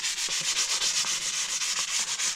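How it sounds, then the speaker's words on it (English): Sandpaper of 320 grit rubbed along the grain of a tillered black locust selfbow, a close, steady run of soft rasping back-and-forth strokes with no talk. "I've just been taking this 320 sandpaper,"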